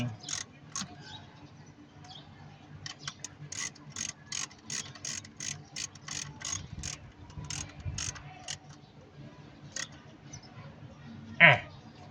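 A ratchet wrench tightens the ignition coil bolts on a Mitsubishi New Lancer, giving bursts of crisp rhythmic clicks with short pauses between, close by, over a faint low background murmur.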